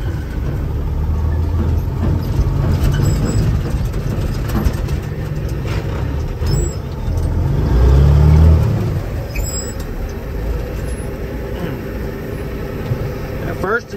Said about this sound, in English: First initial PTO activation's a little bit rough on this truck.